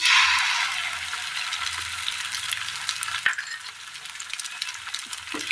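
Beaten egg is stirred into onions frying in a pan, with a loud sizzle that settles into a steady crackle under scattered spoon scrapes and light clinks.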